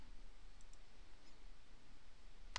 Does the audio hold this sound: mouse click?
yes